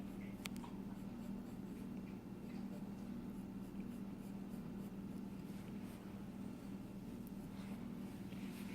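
A pencil scratching across paper while an American flag is drawn: continuous soft scribbling strokes, close and quiet, running steadily throughout with a few sharper ticks.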